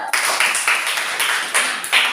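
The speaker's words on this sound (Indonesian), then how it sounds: "Coba, tepuk tangan coba." Children clapping in a classroom, dense irregular handclaps arriving in short bursts with brief dips between them, close and fairly loud.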